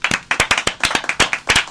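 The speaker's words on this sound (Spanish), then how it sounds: "vamos a aplaudirnos nosotros mismos" A few people clap in a loose, uneven rhythm, close and sharp, with several quick claps in under two seconds and little else around them.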